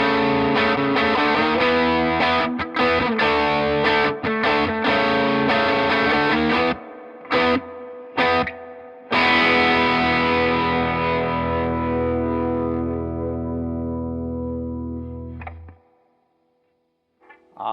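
An electric guitar runs through a Harby Noble Tone overdrive pedal with the gain halfway up. Loud, thick driven chords ring with brief stops, then a long sustained chord fades out.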